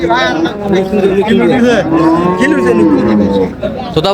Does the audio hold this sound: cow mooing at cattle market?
yes